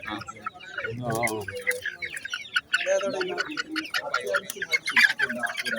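Country chickens, hens and roosters, cluck and squawk in cages at the Kalpakanchery poultry market, with short bursts of calls mixed into nearby traders' talk.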